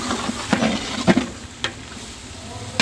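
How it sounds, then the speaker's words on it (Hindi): Masala of cumin, red chili and dried coriander fries in a pan, with a steady soft sizzle broken by several close scraping stirs of a spoon. "5 से 7 मिनट के लिए अच्छी तरह फ्राई करेंगे ताकि तमाम मसाला हमारा अच्छी तरह फ्राई हो जाए।"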